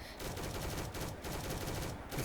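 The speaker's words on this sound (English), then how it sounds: "Just go up to the zombies and shoot them in the face." Rapid gunfire from shooting zombies at close range in the Roblox Zombies game on the Kino map, a dense, continuous burst of shots with brief gaps.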